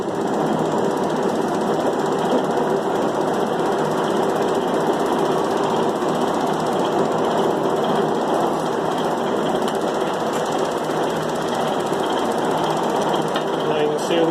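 A hand-cranked blower on a coal forge whirs in a dense, steady drone with a rough mechanical rattle, holding constant throughout, with a voice speaking faintly over it.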